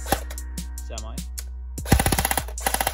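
A Cybergun P90 airsoft gun is switched through safe and semi settings with a few clicks, then fires a rapid string of sharp, close shots in quick succession.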